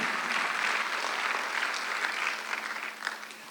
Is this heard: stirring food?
no